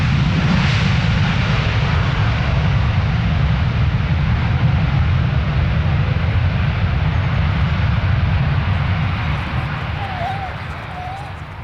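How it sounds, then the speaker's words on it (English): An Asiana airliner starts its engines after pushback at London Stansted Airport, giving a steady, loud, broad roar and rumble that holds throughout and eases slightly at the end. "the Asiana has just pushed back and doing engine starts at the moment"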